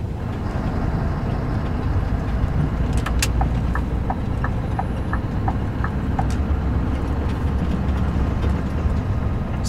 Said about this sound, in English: power it up again and give you some more sounds of that V8